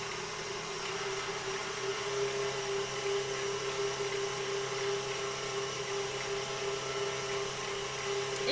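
A stand mixer beats butter and sugar together for sablé dough, a steady close motor whir with a constant tone running evenly throughout, with no talking.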